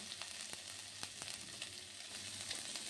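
Asafoetida and ginger frying in oil in a pan, a continuous faint sizzle and crackle with small irregular pops and spatters throughout.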